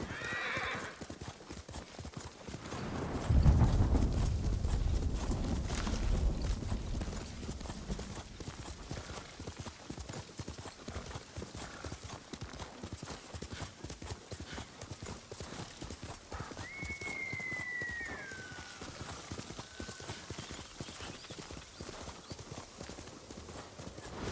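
Rapid rhythmic horse hoofbeats in Ghost of Tsushima clip-clopping steadily throughout, with a heavy thud early on and a horse whinnying briefly partway through.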